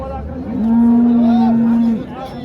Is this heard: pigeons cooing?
no